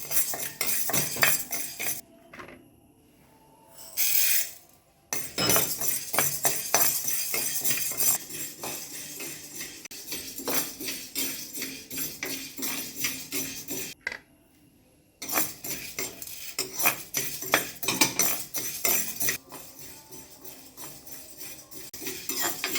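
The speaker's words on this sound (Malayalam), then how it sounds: "നമുക്ക് വറുക്കാൻ തുടങ്ങാം." Chillies and lentils are dry-roasted in a hot pan, a metal spoon scraping and clinking against the pan in a steady stirring rhythm, close and unaccompanied by talk, broken by a few brief quiet gaps.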